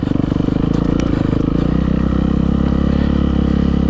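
An engine idling high, a loud, steady, rapid throbbing rumble with light rattling on top, close and continuous without speech.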